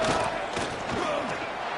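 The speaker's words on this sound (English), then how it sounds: "Listen to the crowd energy here in the early going." Stadium crowd noise from a college football video game, a dense, loud, continuous roar with no breaks, heard up close.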